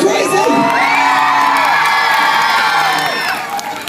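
A live audience at the Wheel of Death show at Butlins Minehead screams and cheers loudly, with children's shrieks and whoops forming a sustained roar that fades slightly near the end.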